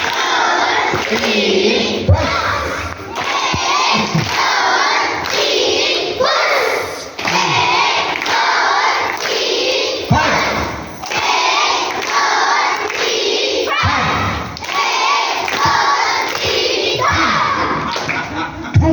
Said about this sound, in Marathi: हा चला, फटाका टाळी सुरू.